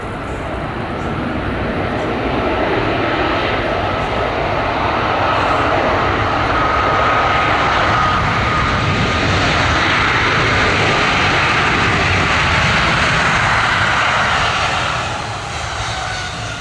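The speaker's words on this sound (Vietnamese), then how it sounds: "Còn bây giờ máy bay đang giảm tốc trên đường băng." A China Southern Boeing 737 MAX 8 slows down on the runway at Tan Son Nhat airport after landing, a loud, broad, continuous engine roar that swells and then eases slightly near the end, with no voices.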